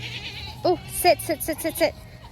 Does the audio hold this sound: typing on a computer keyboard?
no